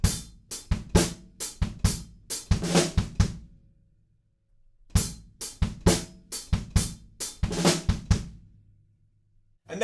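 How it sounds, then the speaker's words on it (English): Drum pattern from a song, played twice with a short gap between: crisp kick, snare and cymbal hits in a brisk rhythm, with each pass closing on a quick little fill in place of the snare hits. "right at the end, we've got a tiny little fill instead of the snare drum hits"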